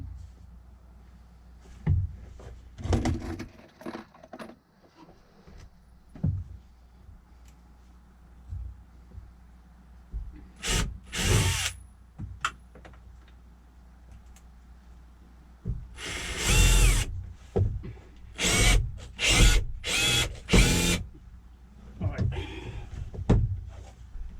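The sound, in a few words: power drill boring counterbores in wood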